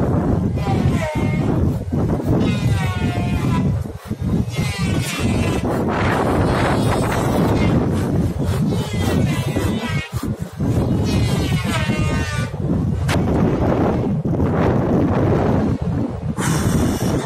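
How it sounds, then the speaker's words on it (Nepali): Strong wind roars and buffets the microphone on the route toward Manaslu mountain, loud and unbroken, with faint voices now and then beneath the gusts. "हावा"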